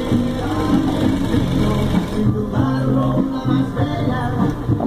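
Straight-stitch sewing machine stitching rigid fabric, a fast rhythmic mechanical clatter that runs steadily and close by, with short pauses in the stitching.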